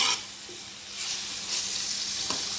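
Pork pieces frying in hot oil give a steady close sizzle with scattered sharp pops of spattering oil, growing a little louder partway through; no one talks.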